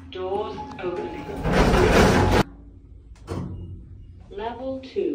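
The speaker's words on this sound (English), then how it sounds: "Doors opening." Lift doors sliding open in a busy shopping-outlet lift, a loud broadband rush lasting about a second that stops abruptly, surrounded by automated voice announcements and a few clunks.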